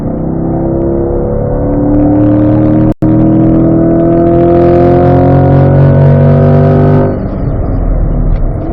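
A race car engine accelerates on a track, one loud sustained rising roar with a steady climbing pitch over several seconds, broken by a very short dropout, then easing off at the end.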